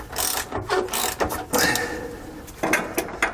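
A ratchet turning a 13mm socket on an extension, driving a bolt under a 2018 Newmar Canyon Star motorhome while SumoSprings are fitted: close, crisp clicking in several short bursts with brief pauses between strokes.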